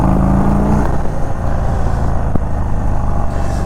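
A 2021 Indian Chief Bobber 116 Stage 2 motorcycle accelerates on the road, its big V-twin engine droning loud and close with a deep, rising rumble, briefly shifting midway and then pulling on steadily.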